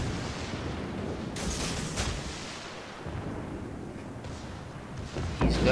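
Torpedoes launched from a ship in a naval video game: a continuous rumbling barrage of muffled booms and whooshes, with a few sharper blasts and a heavier burst at the end.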